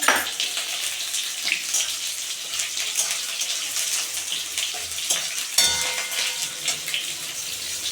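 Tomato with ginger and garlic paste cooks in a pan for lentil dal with pointed gourd, giving a bright, wet, hissing sizzle throughout with occasional stirring scrapes.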